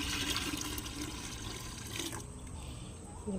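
Water splashing and trickling while a garden is being watered, a close rushing flow that suddenly drops to a thinner dribble partway through, with a brief voice near the end.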